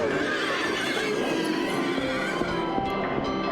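A horse whinnies in the Silent Hill 3 video game, a loud drawn-out neigh over a dense, noisy game background, with hoof clops mixed in and no talking.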